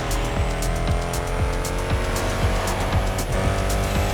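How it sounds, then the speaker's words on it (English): A four-wheeled vehicle driving off-road at night in The Crew Motorfest, its engine droning steadily with rising and falling revs, tires scrabbling and sharp clunks from rough terrain recurring throughout, loud and close. "you're going for another rugged ride with another four-wheeled vehicle"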